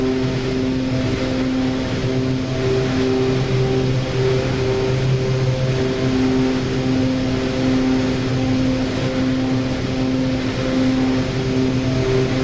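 An OV-10 Bronco twin-turboprop aircraft in the DCS World flight simulator drones steadily from takeoff, a continuous propeller and engine hum with sustained tonal harmonics at even loudness and no speech.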